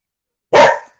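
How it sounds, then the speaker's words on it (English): A single loud, close dog bark bursts out after half a second of silence and trails off quickly, heard on its own indoors in a home. "the dog started off barking"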